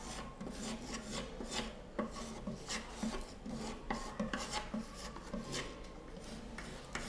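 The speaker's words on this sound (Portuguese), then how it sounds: "Só mesmo quando estiver bem seco é que nós podemos lixar" Sanding old wood furniture once the applied filler has dried, a rhythmic rasping rub repeated in quick back-and-forth strokes, close and clear, with no talking over it.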